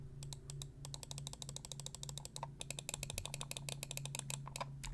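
Left and right clicks on a Gamesense META gaming mouse with Kailh 4.0 switches, sharp close crisp clicks repeated rapidly and steadily throughout over a faint steady hum.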